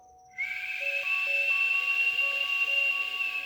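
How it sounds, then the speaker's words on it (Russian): A whistling exhale through pursed lips during a breathing exercise: a single long, steady whistle begins abruptly and continues to the end over quiet background music. "и выдох со свистом,"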